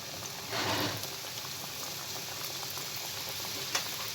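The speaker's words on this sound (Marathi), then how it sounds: "आधी एक एक तळून घेते।" Samosas deep fry in hot oil with a constant, even bubbling hiss, close and moderately loud, with a brief surge of louder crackle near the start.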